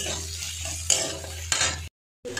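Chopped onions fry on a low flame in a pan, a soft sizzle broken by a couple of sharp utensil scrapes and stirring clatters, then a brief cut to silence before it resumes.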